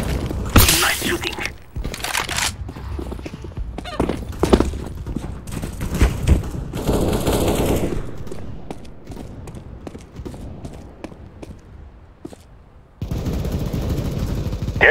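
Gunfire in Counter-Strike: Global Offensive during a team deathmatch on the Mirage map, with repeated sharp shots and bursts spread across the stretch, loud and close, over game sounds and announcer-style speech.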